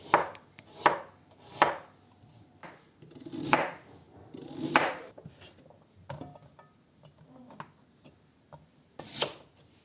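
Knife slicing an onion into rings on a board, sharp chopping knocks at uneven intervals, close and clear with no talk.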